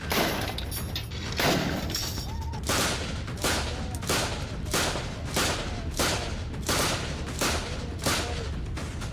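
Rapid rifle fire from an Afghan militia unit at a village edge: sharp, loud shots repeating roughly every half second in a steady string, echoing outdoors, with no voices.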